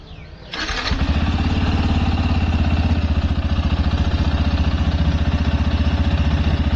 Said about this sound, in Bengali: তো এখানে বাইকটা স্টার্ট হয়ে গেছে